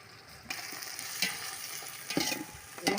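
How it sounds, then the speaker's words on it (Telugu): Chopped tomatoes sizzling in hot oil for chicken biryani, with a soft continuous fry and several scraping stirs of a spoon through the pan, close and fairly quiet. "ఇందులో వేసుకోవాలి టమాటాలు ముక్కలు."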